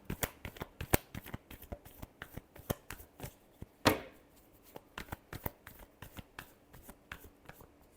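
Tarot cards being shuffled by hand in a quiet room, a steady run of crisp, close riffling flicks and slaps with one louder burst partway through, no voices.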